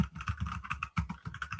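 Computer keyboard typing during a live holiday hangout stream: a steady run of quick clicky keystrokes with a brief pause partway through, fairly close and moderately loud, with no talk over it.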